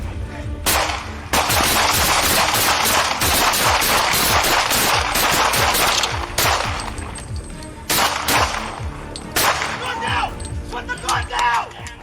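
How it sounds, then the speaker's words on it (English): Police officers trade gunfire with an armed suspect, a dense, loud burst of overlapping shots and sharp cracks lasting several seconds, with voices and commotion mixed in and quieter scattered sounds between bursts. "He fired once toward officers, forcing them to respond with gunfire."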